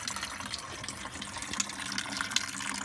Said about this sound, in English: we are draining the coolant